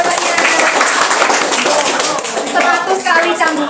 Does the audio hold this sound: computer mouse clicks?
no